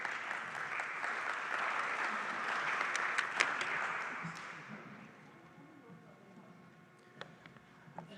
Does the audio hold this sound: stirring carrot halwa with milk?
no